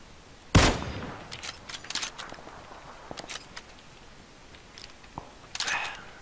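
Sharp gunshots in PUBG: Battlegrounds, a loud close crack near the start followed by scattered, fainter shots at irregular intervals and a final burst near the end.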